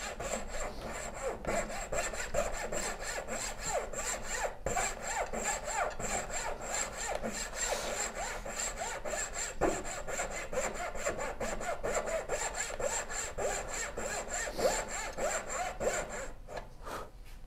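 A hand saw cuts through wood in a long run of quick, even back-and-forth strokes, close and steady, fading slightly right at the end.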